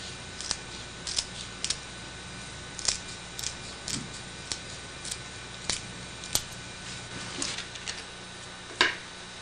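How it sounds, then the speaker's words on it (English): Scissors snip through a carpet donor piece during a DIY carpet patching job, a series of sharp, separate cuts at an uneven pace, close and clear with no talk. "Do that with our scissors."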